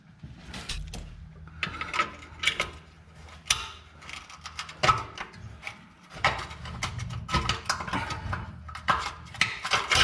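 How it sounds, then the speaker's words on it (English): A cut section of car tailpipe is worked loose and pulled out with pliers, producing a close series of metallic scrapes, clicks and grinding rubs in irregular bursts, with no talking. "I should be able to grab it with a pair of pliers and easily pull it right out now"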